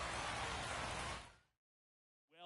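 Steady, dense rain hiss during a rain-delayed baseball game in the MLB 25 video game, loud and even for over a second before cutting off abruptly to silence.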